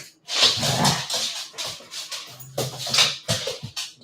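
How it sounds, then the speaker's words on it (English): An older dog named Charlie growls and barks in short, close bursts, with yips and whimpers mixed in from playful dogs nearby. "Do you hear Charlie growling?"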